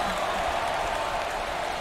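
In an NCAA basketball video game, a distant crowd keeps up a soft, continuous wash of applause and cheering at low volume, steady throughout without a sharp peak.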